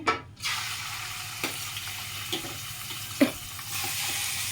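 Prawns frying in hot oil give a soft, steady sizzle with a few sharp pops and clinks of stirring, heard close up and fairly quiet.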